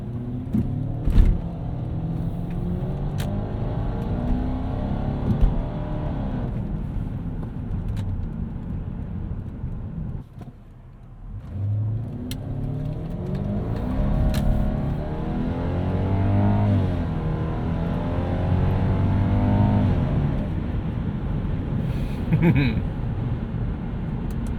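A 1998 Lexus GS 400 V8 sedan pulling out under acceleration, engine droning steadily from inside the cabin, dipping briefly at a shift, then climbing again in pitch as it gains speed.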